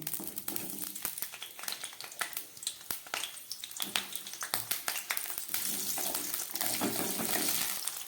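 Cauliflower is added to hot mustard oil in a pan, giving a crackling sizzle with clattering bursts that settles into a steady fry, while a voice talks over it.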